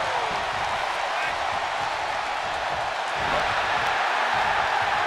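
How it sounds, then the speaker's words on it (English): A wrestling arena crowd in WWE 2K23 keeps up a loud, continuous roar throughout, a broad wash of noise that never breaks. "The sound of this crowd is deafening,"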